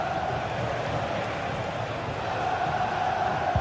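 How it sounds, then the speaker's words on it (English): Steady roar of a tense stadium crowd at a football match, a dense, continuous wash of massed voices holding at an even level throughout, with no single voice standing out. "The crowd certainly think so. Just listen to them."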